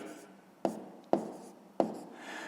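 Chalk or marker strikes a board three times in quick, sharp taps, each followed by a short scratchy stroke, close and fairly quiet, in a fifth-grade maths lesson.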